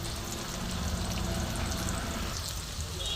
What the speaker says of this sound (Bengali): আমি তেলের মধ্যেই কিন্তু কষতে কষতে এটাকে সেদ্ধ করে নেব।